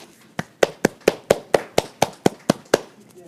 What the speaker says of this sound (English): And everyone clap your hands.